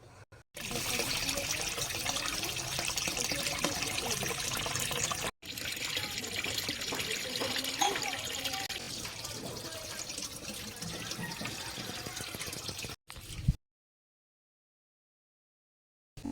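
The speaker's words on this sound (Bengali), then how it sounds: "সুন্দর করে ধুয়ে নিতে হবে চালটাকে খুদের চালটা" Broken rice grains being washed in water, a steady wash of running and sloshing water that continues for most of the time with a couple of short breaks, then cuts to silence near the end.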